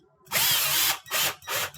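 A power drill drives screws back into a GE, Hotpoint or RCA refrigerator during fresh-food evaporator fan motor repair: one long loud whir followed by two shorter bursts, close up with no talking.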